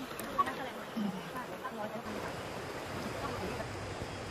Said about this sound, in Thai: มีลำธารเล็ก ๆไหลผ่านหน้าบ้านนะครับ